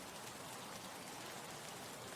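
Rain falls steadily and faintly in the shooter game Escape from Tarkov, an even hiss of drops hitting surfaces with no voices present.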